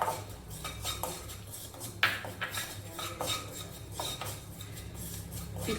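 White sesame seeds stirred in a pan while being lightly fried, heard as steady scraping and clinking of a spoon against metal, with repeated sharp taps at a close, moderate level.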